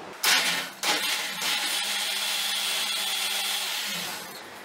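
A juicer grinds raw mangoes, giving a continuous whirring motor whine that starts after a brief burst, then holds steady and fairly quiet for about four seconds before cutting off.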